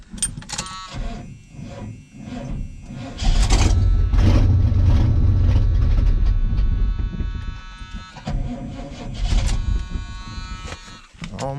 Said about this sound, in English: keep trying to crank it till hopefully we build up some air pressure and suck the fuel up to the pump